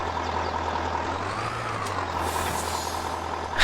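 An introductory lorry truck in Farming Simulator 22 idles with a low, steady engine drone and a faint higher whine, ending in a short burst of air-brake hiss.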